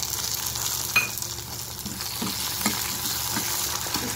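Chopped tomatoes go into a hot chana dal tempering with slit green chillies, sizzling and crackling steadily, with a few stirring scrapes and taps of a spoon against the pan, close and continuous.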